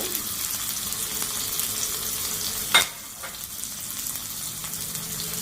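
Green chillies, garlic and small shallots are dropped into hot oil with mustard seeds, giving a steady frying hiss with one sharp clatter partway through and occasional light stirring.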